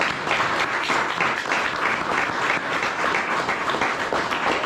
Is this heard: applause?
yes